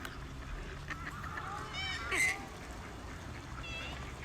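Geese honk in the open air, with a few nasal calls rising over a steady wind-like hum from a drone, the loudest honk brief and near the middle, otherwise faint and scattered.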